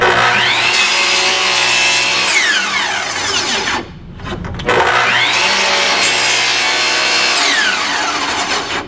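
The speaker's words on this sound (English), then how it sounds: "In fact, I'm going to do 4 cuts because I really want to open that kerf up." A compound sliding miter saw cutting a wooden board for a Viking chair, a loud close whine spinning up, biting through the wood, briefly cutting out, then running again through a second pass.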